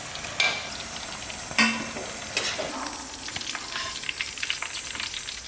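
Pieces of eggplant (brinjal) fry in hot oil with a steady, close sizzle and hiss, broken by a few louder crackles and occasional stirring scrapes.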